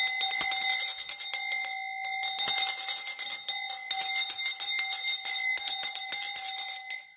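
A hand bell rings continuously in a spiritual cleansing ritual at home, bright sustained metallic tones with repeated quick strikes, loud and close, no talking.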